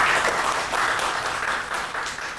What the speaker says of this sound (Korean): 다시 한번 김 기자께 박수 부탁드립니다.